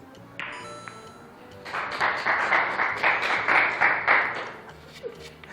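Artificial-sounding applause at a billiards game: after a lone ping, a steady burst of even, mechanical clapping swells for about three seconds and then cuts off into quiet murmurs.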